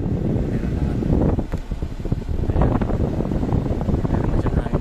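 Steady broadband whoosh of air blowing through the vents of a 2020 Dodge Charger police vehicle with an A/C blower problem, constant and fairly loud, with a low rumbling undertone throughout.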